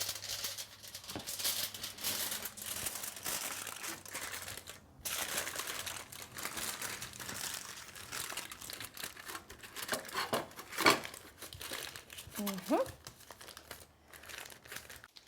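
Aluminium foil crinkling and crackling continuously as halved spaghetti squash is laid face down on it, close and loud, with one short pause and no talking.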